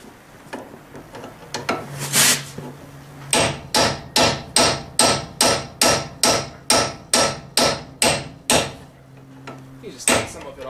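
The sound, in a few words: hammering out a ball joint on a Chevrolet Tahoe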